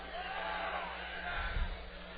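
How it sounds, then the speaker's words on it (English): A rowdy crowd at a minor league baseball game in Brevard County, a broad murmur of voices with a swell of cheering near the middle, heard from a distance. "Good and rowdy crowd tonight."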